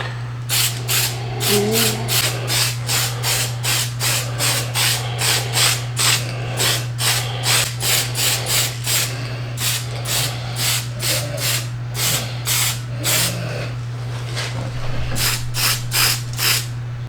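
Aerosol spray paint hisses in rapid, evenly spaced bursts over a bright red SCX24 RC crawler body, with a steady mechanical hum running underneath and no talking.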